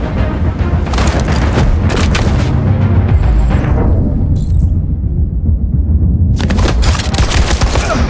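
Gunfire from the video game Detroit: Become Human, with sustained loud automatic bursts and booming shots that briefly drop away before a final volley, dense and close with no talk.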